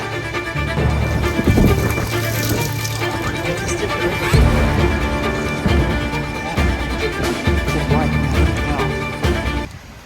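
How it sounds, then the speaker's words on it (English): Heavy rain pours down outdoors in a dense, continuous wash of sound, with rumbling undertones and scattered clatter all the way through. "then it's pouring down rain"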